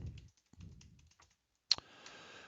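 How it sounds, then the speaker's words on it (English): Quiet keystrokes on a computer keyboard while entering a name during an Ubuntu Desktop installation, a few soft scattered taps followed by one sharper click, with no talking. "we're going to type in our name"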